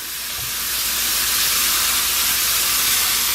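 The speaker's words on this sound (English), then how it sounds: "we'll take the burgers and just drop them in" Small bacon cheeseburger slider patties dropped into a hot pan, setting off a loud, bright hiss that swells within the first second and then holds as a steady, continuous sizzle.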